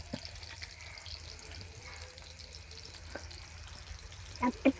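Kebab frying in a pan outdoors at dusk, a steady low crackle running throughout, fairly faint, with a few louder clatters near the end.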